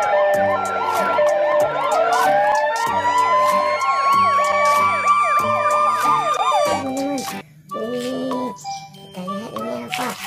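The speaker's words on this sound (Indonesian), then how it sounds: "Wow, mobil ambulans." A toy ambulance siren wails loudly with warbling electronic tones over a beeping jingle, then cuts off, followed by a short burst of different toy tones.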